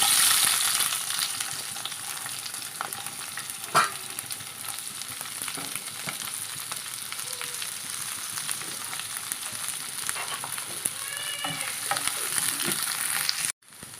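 Sliced onions with cinnamon, cardamom and clove sizzle and fry in a pan over medium heat, a steady close hiss with occasional stirring scrapes, ending in a sudden stop.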